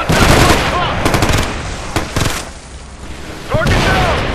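Rapid machine gun bursts and gunfire in the PlayStation 3 game Ghost Recon Future Soldier, loud and close, with clattering volleys that stop briefly and then resume.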